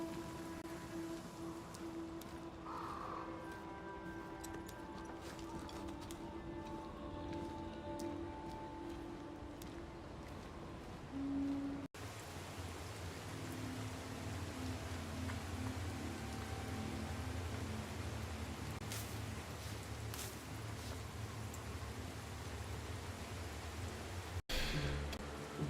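Rain falling in the video game Banishers: Ghosts of New Eden, a quiet steady patter and hiss with faint tonal game ambience, and a shift in the background partway through.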